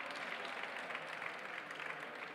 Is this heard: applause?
yes